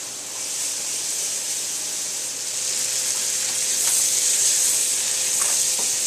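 Apple pieces sizzling in melted butter in a pan, a steady bright frying hiss that swells slightly as more go in, with a few faint clinks and no talk.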